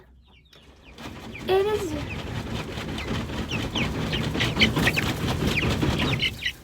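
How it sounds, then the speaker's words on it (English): Farm chickens cluck and squawk in short repeated bursts close by, with a brief word spoken just before the birds start, the noisy yard sounds continuing throughout. "This is my favorite chicken right here."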